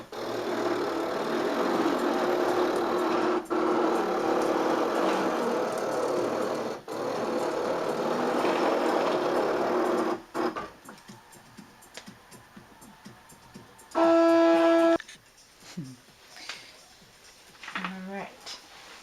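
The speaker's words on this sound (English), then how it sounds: "So I'm going to cut out the circle on my Cricut." A Cricut machine cutting a large circle from letter-size cardstock gives a steady mechanical hum with faint clicks for about ten seconds, then stops, followed by brief louder whirring bursts and handling noises.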